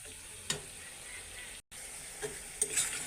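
Masala spices for fish curry fry in a pan on low gas, a soft, continuous sizzle with a few stirring scrapes, faint and close.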